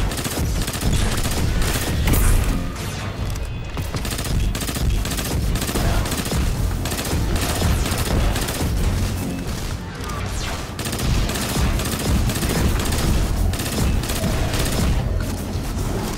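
Dense, continuous gunfire and booming explosions from the video game Destiny 2, loud and close throughout with rapid bursts. A voice speaks briefly under the sustained combat noise.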